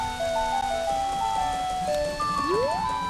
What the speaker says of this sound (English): it always rains on day 2 in Clocktown